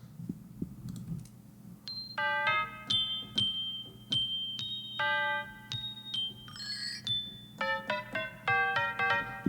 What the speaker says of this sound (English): But we are going to put these chimes in.